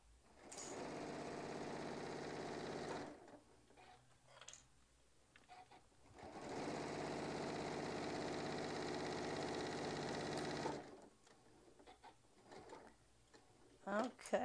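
A sewing machine runs in two long stitching bursts while a bag is sewn together, its steady motorized whir stopping between runs, with a person talking quietly during the pauses.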